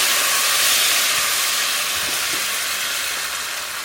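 Water poured into a hot pan of frying onions sends up a loud, steady steam hiss and sizzle that fills the whole clip, easing off slightly toward the end.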